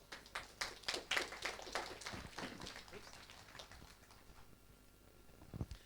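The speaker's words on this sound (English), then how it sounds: "Round of applause." Applause at a Mardi Gras prize presentation, a modest round of clapping that is fairly quiet overall, starting with sharper bursts and thinning out toward the end.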